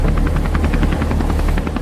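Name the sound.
helicopter taking off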